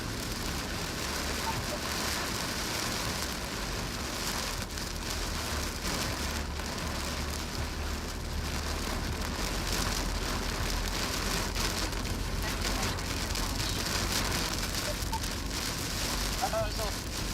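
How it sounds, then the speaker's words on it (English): Heavy rain pours steadily in a storm over Illinois, a dense constant hiss on the surface nearby, with someone talking faintly under the downpour. "It's a little pouring up here"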